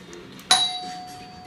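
A smart home doorbell chime being pressed gives a single bright electronic ding with a long ringing tone that fades slowly, alone in a quiet room.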